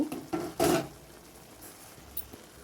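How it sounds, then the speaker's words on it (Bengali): A metal lid lifted off a pot of simmering bottle gourd and moong dal curry, giving a brief clatter and clank near the start, followed by a quiet kitchen. "এবার আমি ঢাকাটা তুলব"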